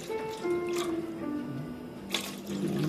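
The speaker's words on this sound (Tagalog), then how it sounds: "Combine lang natin itong ating tubig. Konti-konti lang naman." Water trickling and splashing as it is added little by little to cooking ingredients for kutsinta, a soft uneven pour with small drips, fairly close and quiet, with no talking.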